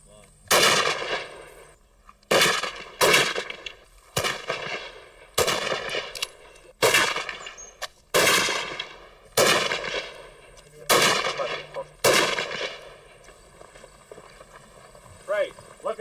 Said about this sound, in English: The Lee Enfield will be the first time they've heard the sounds of war.